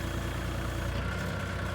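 A tractor engine rumbles steadily at close range while digging in loose sand, a continuous low droning idle with no distinct changes or voices.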